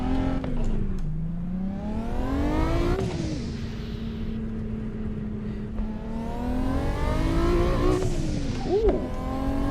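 An Audi drives in a driving simulator video game, its engine humming steadily and rising in pitch as it revs through gear changes, with brief tire squeal near the end.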